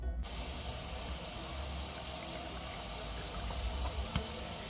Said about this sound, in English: Now I'm going to add a little bit of water to the bottom.